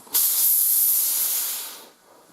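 A Laurastar Steamax G2 735 steam generator iron lets out a loud, close, continuous hiss of steam that lasts about two seconds and then trails off.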